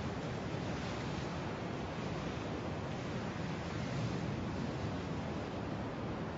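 Sea waves wash against the shore in a continuous, even roar with a breezy, wind-buffeted quality and no distinct breaks between swells.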